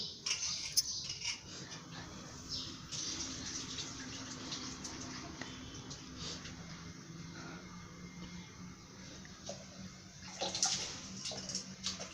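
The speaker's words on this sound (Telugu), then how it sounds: "పెసరపప్పు బాగా కడిగి" Moong dal being washed in water, a soft continuous splashing and trickling close by, fairly quiet with a few brighter sloshes near the end.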